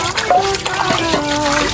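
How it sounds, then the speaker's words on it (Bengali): Water splashes and trickles loudly and close up as someone hurriedly washes, a short burst of sloshing with faint voice-like tones mixed in. "নে ভাই, পানি নিয়ে ধুয়ে নে তাড়াতাড়ি।"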